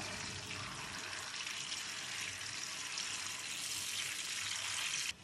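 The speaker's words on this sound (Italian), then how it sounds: "Poi aggiungiamo l'acqua di cottura." Pasta cooking water is poured into a pan of garlic, chili pepper and oil, making a continuous bright rushing hiss that holds steady for several seconds before cutting off abruptly.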